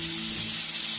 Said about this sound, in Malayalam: എണ്ണ ചൂടായതിനു ശേഷം ഓരോ പീസായിട്ട് അതിലേക്ക് എടുത്തിരുക.